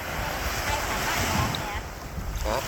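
Sea waves wash steadily onto a beach in a constant broadband roar, with wind buffeting the microphone throughout and no clear pauses between surges.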